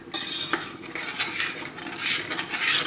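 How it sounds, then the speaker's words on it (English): A spoon stirs milk, flour and butter in a pan, with repeated scraping and clinking of metal against the pan in an uneven, close rhythm. "So start off with a spoon,"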